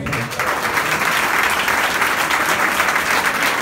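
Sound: applause

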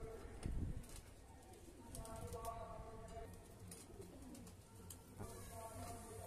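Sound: pigeon cooing

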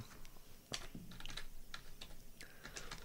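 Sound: typing on a computer keyboard

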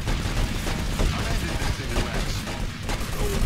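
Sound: gunfire in the video game GTA Vice City Stories

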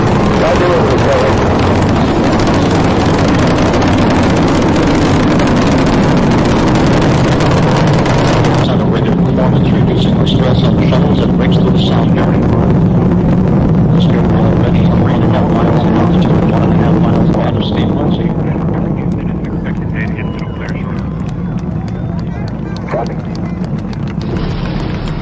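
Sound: Space Shuttle Discovery launch engine roar

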